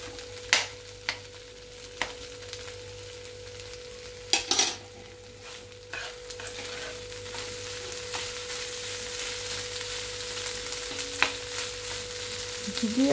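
Taro stalks being stirred in a pan with ghee, with a spatula scraping and tapping in sharp clicks over a continuous soft sizzle of frying that grows slightly louder toward the end.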